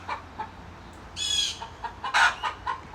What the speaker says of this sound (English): I don't know what kind of bird it is.